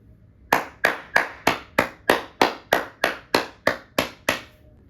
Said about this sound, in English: give a round of applause to